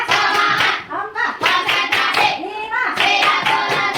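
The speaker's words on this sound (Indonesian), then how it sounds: "Kita tepuk 1, 2, 3, 4, 5." A classroom of children clap hands in five bursts while counting aloud, rhythmic group claps separated by brief pauses, close and loud, with young voices mixed in.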